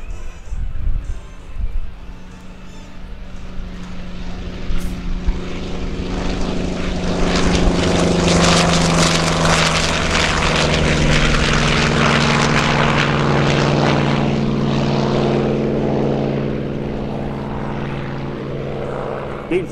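A Douglas Skyraider propeller plane flies past at a Rhode Island airshow at Quonset, its deep droning engine swelling loud as it nears and slowly fading, with a steady low prop hum throughout.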